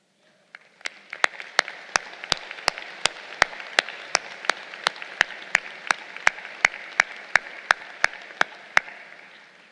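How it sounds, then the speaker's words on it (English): Audience at a college commencement ceremony applauding alumni, heard as a soft wash of clapping punctuated by a regular series of sharp, evenly spaced claps, steady throughout. "round of applause"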